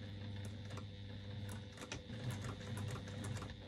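A sewing machine stitching a quarter-inch seam runs in a steady, fast mechanical patter with faint clicking, quiet and close, without any talk.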